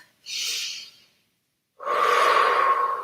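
Two deep breaths during a yoga and Pilates session, a soft inhale followed after a short silence by a longer, louder breathy exhale, close and alone.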